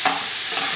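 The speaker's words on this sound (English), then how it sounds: "Chopping up that ground beef." Ground beef for sloppy joes sizzles and crackles in a hot pan on medium-high heat as it is stirred and chopped, a brief, close, steady hiss.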